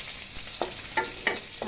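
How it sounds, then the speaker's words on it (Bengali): Onions fry in a pan with a constant close, loud sizzle and occasional soft scrapes of stirring. "পেঁয়াজটি ছেড়ে দিয়ে এখন আমি ভাজতেছি।"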